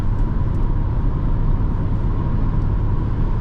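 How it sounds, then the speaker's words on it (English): Inside the cabin of a 2010 Acura MDX 3.7L cruising at highway speed, a steady low road rumble and soft wind rush hold a constant, muted level throughout. "The only thing we hear is a little bit of the road and the wind"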